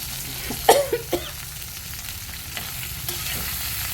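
Okra and tomato sauté in a pan while a spoon scrapes and clinks against the metal, with a few sharp knocks early on over a steady, soft sizzle.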